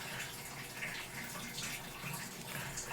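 Water runs steadily from a hose or tap into barrels being filled for an aquarium water change, a constant broadband rushing that holds at an even level throughout.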